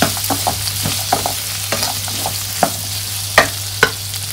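Grapes being stirred into butter poha in a frying pan: a soft sizzle under repeated scraping and clinking strokes of a spoon against the pan, close and irregular.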